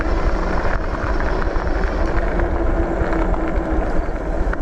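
A HiKNIGHT H6 Pro dual-motor 3000W e-bike throttles up, a loud, steady motor whine mixed with heavy wind and road rumble that holds throughout, no voices.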